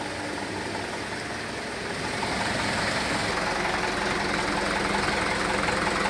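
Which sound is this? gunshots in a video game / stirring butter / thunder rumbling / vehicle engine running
vehicle engine running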